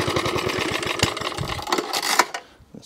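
A vintage Suffolk Corporation Mk2 lawnmower's small engine running with a fast, rhythmic chugging close by. It falters and cuts out near the end, leaving quiet.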